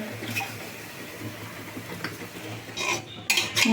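A spoon stirs chicken and onion inside a pressure cooker, scraping and clinking against the metal with scattered soft knocks, then sharper, louder clatters near the end.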